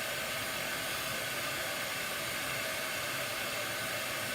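A heat dryer blows steadily over a freshly painted silk screen stencil for a chalk craft project, a constant close airy whoosh with no pauses and no talking.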